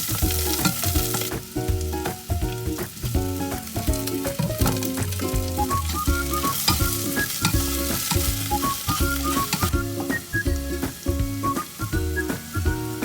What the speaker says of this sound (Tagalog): saute the onion followed by the stalks of the green onions